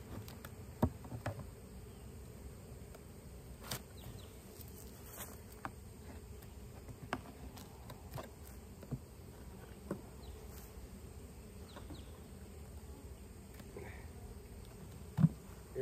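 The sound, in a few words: buzzing honeybees at a hive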